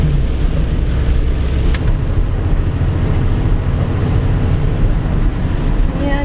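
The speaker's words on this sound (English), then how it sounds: "It really is raining." Heavy rain pours steadily outside an RV in Texas, a dense, loud, unbroken rushing hiss with no voices.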